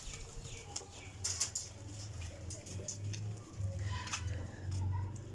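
Pigeons coo softly nearby in low, throaty repeated calls, with faint flutters and rustles in a quiet setting.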